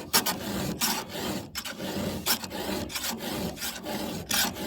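A round file is stroked across the teeth of a chainsaw chain, making a rhythmic rasping scrape that repeats roughly every half second, close and fairly quiet, with no talking.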